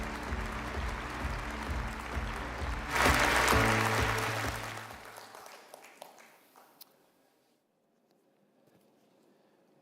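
Audience applause welcoming a speaker at the opening plenary of a forum, loud and sustained at first, swelling briefly, then tapering off and fading to near silence, with music under the start.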